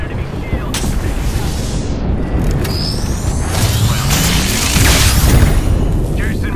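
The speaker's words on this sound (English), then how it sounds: "Enemy airstrike." Enemy airstrike explosions in a video game: heavy, rumbling booms and blasts crash continuously, with whooshing projectiles and a swelling impact near the end, all loud and close.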